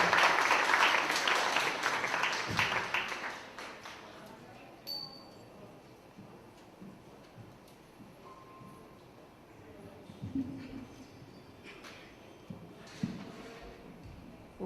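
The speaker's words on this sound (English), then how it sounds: "A round of applause for her." An event audience claps for a speaker, loud dense applause at first that thins out over several seconds into scattered claps, glass clinks and quiet murmuring.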